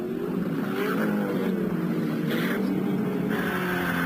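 Alan Moffat's Mobil Holden Commodore race car rolls into pit lane at Bathurst in 1986, a steady close engine drone with shifting pitch, no talk over it.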